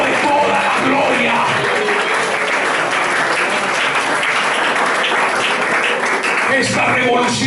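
A church congregation applauds loudly, a dense, steady wall of clapping that holds at full strength for the whole stretch with no break.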